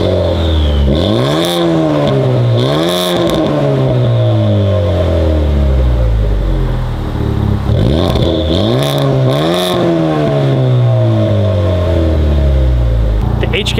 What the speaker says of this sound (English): Let's give you guys some revs with the HKS exhaust.